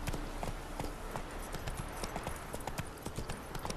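Horse hooves galloping in The Witcher 3 video game, a steady rapid clip-clop rhythm running continuously and fairly loud throughout.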